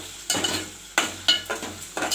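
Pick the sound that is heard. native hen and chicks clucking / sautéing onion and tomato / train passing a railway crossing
sautéing onion and tomato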